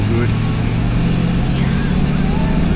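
A 4x4 towing a caravan in second gear, its engine rumbling low and steady up close with a constant droning hum.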